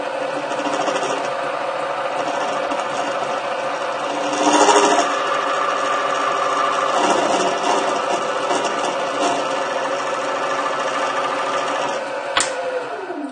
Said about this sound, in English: I'm also going to chamfer the end of this to give the die some hope of starting